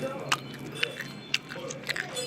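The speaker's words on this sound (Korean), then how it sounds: "이번엔 햄 ASMR" Someone chews ham close to the mic, with a few crisp, wet bites and mouth clicks spaced about half a second apart over quiet room tone.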